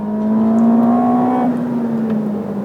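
A Ferrari SF90 Stradale, a hybrid biturbo V8 with electric motors, accelerating hard: a loud, steady engine drone with rising whine, heard close from inside the car and alone, with no talk.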